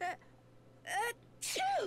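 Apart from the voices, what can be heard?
character sneezing in Nancy Drew video game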